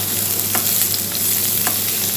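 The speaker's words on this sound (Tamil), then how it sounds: "போட்டு நல்லா கிண்டி விட்டுருங்க." Potatoes with asafoetida powder sizzle loudly in a pan as they are stirred, giving a steady dense frying hiss with a few soft scraping knocks from the stirring, up close with no talk.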